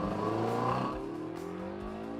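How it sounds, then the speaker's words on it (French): A Lotus 340R's naturally aspirated engine revs with a strong intake roar, rising then steady, heard close from inside the car. "là c'est le bruit de l'air qui est aspiré par le moteur qui fait ce bruit là"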